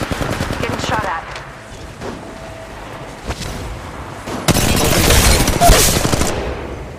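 Gunfire in the mobile battle-royale game Apex Legends Mobile: loud bursts of rapid automatic fire and single shots, with a dense sustained volley near the end, mixed with game voice lines.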